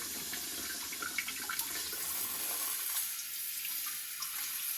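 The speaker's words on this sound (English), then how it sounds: "the feminine wash comes out of the right side" Water spraying from the right-side feminine wash nozzle of an ultra-slim stainless steel non-electric bidet attachment: a steady, fairly quiet hiss of spray running continuously, slightly softening near the end, with no voices.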